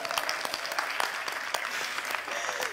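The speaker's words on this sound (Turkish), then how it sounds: "Alkışlayalım mı ablamıza?" Audience applause during a talk and interview session at a book fair, a fairly quiet, steady crowd clapping with scattered sharper individual claps, heard from a distance.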